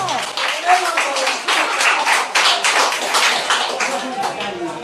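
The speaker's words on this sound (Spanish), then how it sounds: "Para esa Vero, un fuerte aplauso para mi amiga." A small group claps in a quick, uneven burst of applause, with cheerful voices calling out over the clapping, close and fairly loud.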